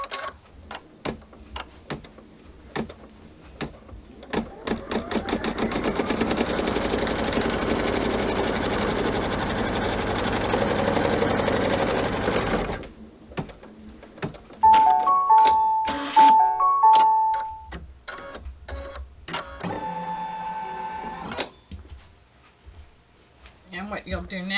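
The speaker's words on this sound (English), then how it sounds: "Let's go ahead and stitch this blue piece down in place now." A sewing machine stitching a blue quilt piece runs in a steady, fast whir for several seconds, then stops; afterward come scattered clicks, a short electronic beep pattern and a brief second run.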